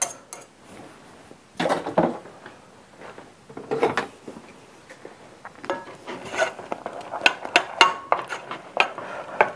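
A spoon stirring cheese sauce in a pan while cheese is added bit by bit: irregular scraping and clinking of metal against the pan, fairly close, with no talking.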